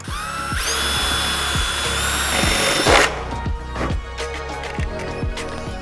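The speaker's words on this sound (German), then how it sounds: "mache ich jetzt ein Loch" A power drill whines steadily at high pitch for about three seconds while drilling a hole in metal on a Vespa scooter, then stops, leaving a ringing metallic clatter and a few light taps.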